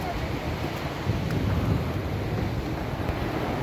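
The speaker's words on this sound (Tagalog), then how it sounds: "Napakalakas ng alon." Strong waves at Sombrero Island make a continuous, loud roar and wash, heavily mixed with buffeting wind on the microphone and no clear speech.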